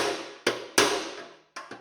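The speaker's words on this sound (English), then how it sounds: "I'm just going to hit them with a hammer a little bit" A hammer taps a punch against the holes of an engine timing cover during an engine build, giving four sharp metallic strikes. Each strike rings briefly, and the four come at uneven intervals with no talk.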